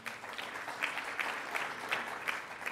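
Dinner guests clapping for officers being introduced, a soft, continuous patter of applause with some louder, evenly spaced claps near the front.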